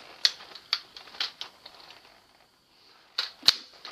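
A pistol is loaded and unloaded during dry practice: a handful of sharp metallic clicks and clacks from magazine and slide, spaced irregularly, with a quiet pause before two final crisp snaps.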